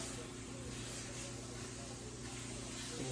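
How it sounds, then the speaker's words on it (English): Pork breakfast sausage sizzles steadily in a cast iron pan on a wood stove, a continuous broad hiss with a low hum underneath, close and even throughout. "So we're browning it up on the wood stove here."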